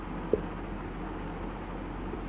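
Marker or chalk writing on a classroom board during a Hindi grammar lesson, soft scratchy strokes with one sharp tap near the start, faint and close over a low room hum.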